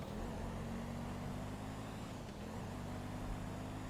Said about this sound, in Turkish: Bir gaza basacağım. Hızlanmasını bir kontrol etmek istiyorum.